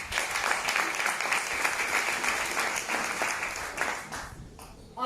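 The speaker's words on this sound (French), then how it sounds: "un tonnerre d'applaudissements pour ma upline" An audience applauding at a testimonial gathering, a steady, moderately distant wash of many hands clapping that carries on for several seconds before tapering off.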